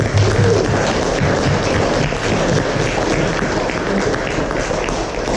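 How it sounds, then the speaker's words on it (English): A church youth-service congregation gives a sustained round of applause for returning youth campers, a dense, steady clapping that fills the whole stretch at even loudness. "let's celebrate by giving them a round of applause"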